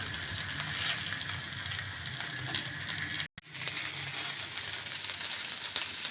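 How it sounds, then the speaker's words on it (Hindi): Fish fries in oil on a tawa, giving a steady crackling sizzle up close with a brief dropout partway through and no talking. "अब 2 से 3 मिनट हम इसको फ्राई करेंगे।"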